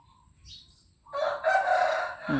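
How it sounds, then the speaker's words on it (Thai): A rooster crows once, a loud, close, drawn-out call that bursts in after about a second of near quiet and holds to the end. "เสียงไก่ไปพร้อม"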